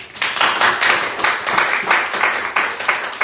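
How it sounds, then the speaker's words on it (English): Audience applause for a panelist at a homebuying seminar, a dense burst of many hands clapping at once that holds steady and fairly loud for a few seconds, with no one speaking over it. "Can we give a round of applause for Seth, please?"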